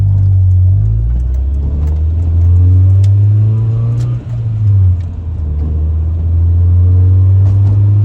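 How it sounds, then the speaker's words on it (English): Honda Prelude engine with an idle surge, a loud low rumble whose pitch climbs and sags in slow waves, briefly dipping in the middle before settling back, heard close with no talk. "Yes, idle surge. I hear you."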